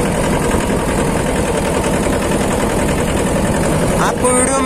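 A Mahindra Jivo 245 DI 4WD mini tractor engine runs steadily and loudly up close while off-roading, a constant rumbling chug with a brief higher sound near the end.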